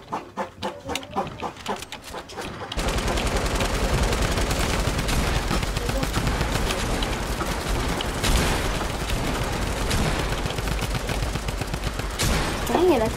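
Rapid bursts of video game gunfire on a beach assault battlefield, loud and sustained for most of the clip after a brief quieter opening, with dense clattering shots and noise throughout.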